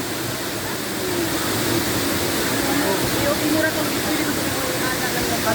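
Tagbibinta Falls in Maragusan, Davao de Oro, roars as a steady, dense wash of falling water close by, a continuous broadband rush with no breaks across the whole stretch.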